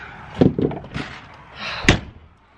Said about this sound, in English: lock up the doors